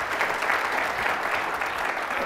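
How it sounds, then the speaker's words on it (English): A conference audience claps for a closing keynote, a short, dense, steady round of applause at moderate loudness. "But maybe we can all thank them by clapping our hands."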